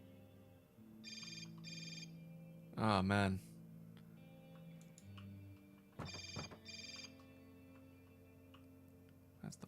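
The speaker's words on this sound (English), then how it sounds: "That's the phone." A telephone rings in the video game Hotline Miami, two short electronic ring bursts repeating with a pause between, under a brief spoken exclamation and game music.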